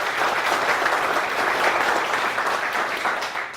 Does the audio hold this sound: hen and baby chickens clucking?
no